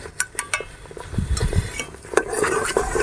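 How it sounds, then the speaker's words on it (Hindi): Close, repeated scraping and clinking of a spoon stirring semolina halwa in a cooking pot, a quick irregular rhythm of metallic strokes with a faint sizzle beneath, no talking. "और चम्मच चलाते रहेंगे ताकि ये सूजी का हलवा नीचे देगची के साथ चिपके ना।"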